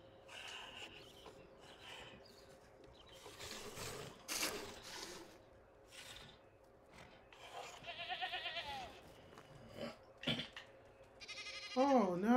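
Goat in the farming game Medieval Dynasty, a few short bleats and snorts amid game sounds and clanks, with a person talking over much of it.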